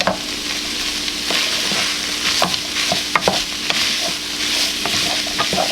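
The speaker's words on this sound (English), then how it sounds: "we're gonna add 1 medium yellow onion and 3 cloves of garlic. And you're gonna cook this until the onion goes translucent a little bit." A medium yellow onion and three cloves of garlic sizzle steadily in a hot pan, a continuous frying hiss broken by occasional stirring clicks and scrapes, close and fairly loud with no talking.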